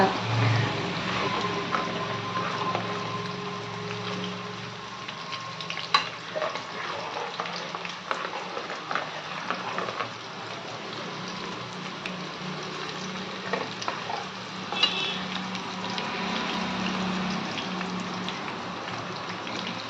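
Ingredients for tomato chutney fry in oil in a pan, a steady soft sizzle with scattered pops and occasional stirring scrapes, close and moderately quiet, continuing unbroken with no voices.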